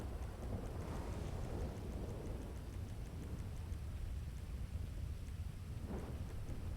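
Steady rain hisses over a deep, rolling rumble of thunder that swells and fades, with no voices present.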